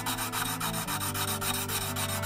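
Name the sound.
polishing carbon steel blade with Gesswein diemaker stones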